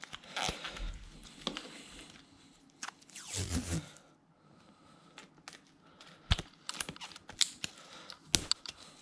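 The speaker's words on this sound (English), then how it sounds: "we're just going to get a long piece of tape and just go straight over like that." A long piece of tape is pulled and pressed over a Samebike L026 e-bike battery, giving close, quiet bursts of tearing and crackling with short taps and rustles between them.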